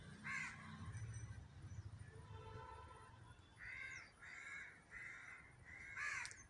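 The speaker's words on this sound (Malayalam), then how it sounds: "ഇപ്പോൾ കാക്ക ആ കൂടിൻ്റെ അടുത്തെത്തിയിട്ടുണ്ട്." A crow caws several times at its nest in harsh, spaced bursts, fairly near, over a low background rumble.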